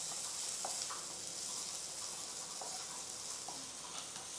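Chopped onion frying in hot oil with cumin in a kadai, a steady broadband sizzle running throughout with a few faint crackles and pops, moderately quiet and with no voices.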